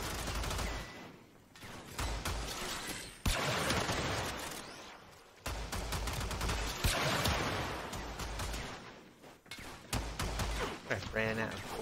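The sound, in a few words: Prisma Angstrum weapon firing in Warframe video game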